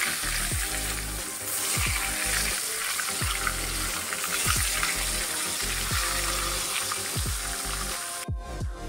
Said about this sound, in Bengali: ওইদিকে বেগুন ভাজাটা বসিয়ে দিয়ে